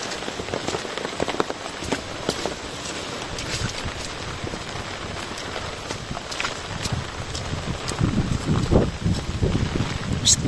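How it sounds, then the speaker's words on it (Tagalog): Heavy rain pours steadily in a rural outdoor setting during a storm, a dense, close hiss of drops pattering on surfaces throughout, growing a little louder toward the end. "Inabot na kami ng malakas na ulan."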